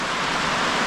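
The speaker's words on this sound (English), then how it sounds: "as you can hear, it is raining again in the North Country." Rain falls outside a sauna in the North Country, a dense, even hiss of steady downpour heard close and fairly loud, with no voices over it.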